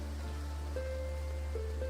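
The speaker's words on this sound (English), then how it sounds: "But it is indeed raining. It's coming down hard." Heavy rain pours down in the video game Graveyard Keeper, a steady, even hiss lasting throughout with faint tonal game music running underneath.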